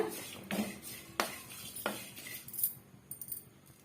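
Pulao spice powder dry-roasting in a pan for mint pulao, heard as a few sharp metallic scrapes and clinks of a spoon against the pan, close and moderately loud, spaced irregularly over a quiet background.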